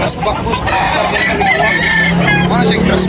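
Roosters crow and cluck up close at a rooster sale in Tabunok, Talisay, with one long crow rising near the end while people talk over the crowing.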